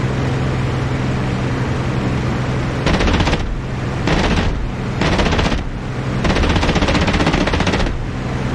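Aircraft machine guns fire at bombers in Project Overlord: four loud, sustained bursts of rapid gunfire separated by short pauses, over a constant engine drone.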